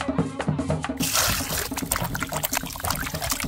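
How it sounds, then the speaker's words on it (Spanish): Water pours and splashes as beans and pork are rinsed in a kitchen, a steady close trickle that turns into a fuller, louder gushing flow after the first second. "lavamos con limón y sacamos con abundante agua"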